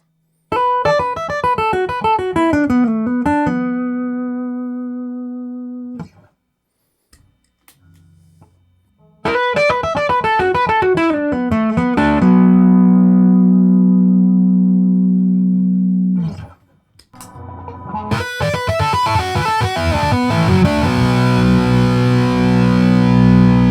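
A Chapman Stick with a Stick-Up pickup played through an amplifier, shifting from clean tones to overdriven and then heavily distorted sustained chords, loud and close, with brief pauses between passages.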